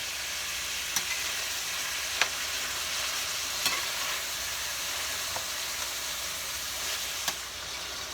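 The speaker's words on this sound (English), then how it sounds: "I'll just make sure that's fried together with the vegetables" Oregano frying with vegetables and hamburger meat in a pan for spaghetti meat sauce, a steady bright sizzle with occasional light clicks of a utensil, close and alone.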